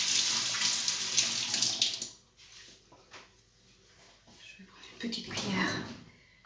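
Tap water runs steadily into a sink as hands are washed nearby, then cuts off into near quiet before a brief splash of water returns, with a soft voice speaking during the clip.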